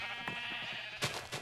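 Sheep in a video game bleating, a close, clear nasal bleat followed by a second brief one, loud over a faint steady background tone.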